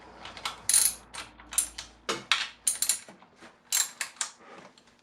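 A hand ratchet clicks in quick repeated bursts while loosening 10mm nuts during cylinder head removal on a 2008 Acura MDX engine, each swing giving a crisp metallic run of pawl clicks, close and distinct.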